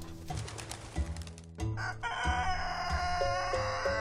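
Chickens cluck and a rooster crows repeatedly on a Turkish farm that also keeps horses, pigeons, dogs, geese and peacocks; the calls are near and fairly loud, with no talk.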